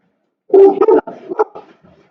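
A pet dog in a home barks and whimpers close by, a short burst of yelps lasting about a second and a half, trailing off into softer whines with no one talking.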